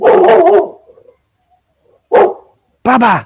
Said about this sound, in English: Oh, sorry about my dog.